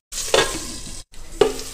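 Tomatoes fry with salt in a pan for an Assamese ridge gourd curry, giving a steady close sizzle broken by a brief pause and two sharp stirring scrapes.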